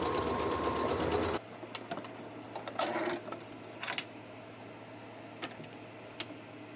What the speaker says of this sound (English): I've unpicked it all and I'm now just in the process of re-hemming it, just doing a normal hem like I should have done in the first place.